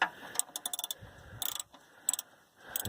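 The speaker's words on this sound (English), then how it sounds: "This 14 millimeter wrench appears to be the weapon of choice." A 14 mm wrench working the oil drain plug of a 1989 Jeep Wrangler: quick bursts of metallic ratcheting clicks, close and fairly quiet, in short irregular runs with brief pauses.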